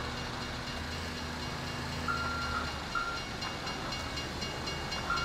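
A train rumbles past in Grand Theft Auto V, a steady heavy rolling drone with a brief high whine near the middle, continuous and fairly loud without speech.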